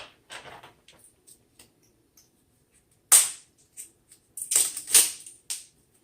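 Masking tape pulled from the roll and pressed onto a ceramic figure, sharp crackling rips in short separate bursts with quiet gaps and faint handling taps between them.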